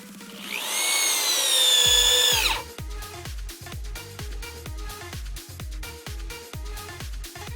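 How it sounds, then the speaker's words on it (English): A power drill pre-drills a pilot hole for a lag bolt while installing a Genie 6170 wall-mount garage door opener: a loud, steady whirring burst for about two seconds, then a string of rapid rhythmic knocks and ratcheting pulses. "I'm going to pre-drill the hole there and put a lag"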